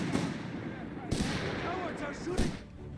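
Gunfire in the real-time strategy game Company of Heroes 3, with a couple of sharp, loud cracks and bursts standing out over a continuous din of battle noise.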